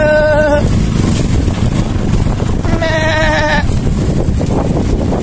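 Goats bleat in a village in two separate calls, one at the start and a longer one midway, over constant loud outdoor noise.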